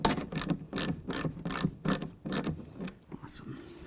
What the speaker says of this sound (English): Okay, I'm going to grab my ratchet. I'll snug those up a little bit.